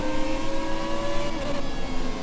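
An F1 race car at the Australian Grand Prix in the video game F1 2017 holds a high, buzzing engine note at steady revs, loud and close for a couple of seconds with no talking.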